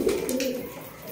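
A single soft, low coo comes from a black high-flying pigeon, brief and close.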